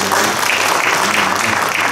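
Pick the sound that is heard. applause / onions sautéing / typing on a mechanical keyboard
applause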